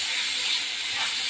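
Parshe and tilapia fish frying in hot oil in a pan, a loud steady hissing sizzle with no voices.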